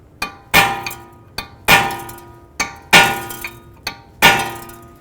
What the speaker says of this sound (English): I'm just going to use a punch and punch in on the set screw.